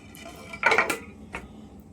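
Ivy gourd (kundru) being sliced with a knife in a home kitchen: a few quick, sharp taps and clicks against a quiet background, spaced irregularly.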